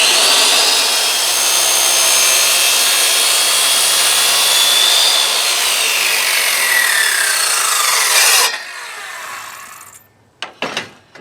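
A hand saw cuts a notch into a wooden post for a barn and shop rebuild, rasping in a steady, loud stroke pattern that stops abruptly, followed by a few sharp knocks of wood.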